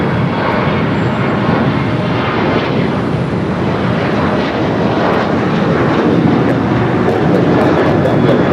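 A Frontier airliner at Los Angeles airport roars loudly and continuously with broadband jet engine rumble, sustained at close range with no talk.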